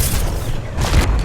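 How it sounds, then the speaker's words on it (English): Flashbang going off in the Subnautica 2 video game: a loud, close, sustained boom with a second swell near the end, heard alone. "Flashbang."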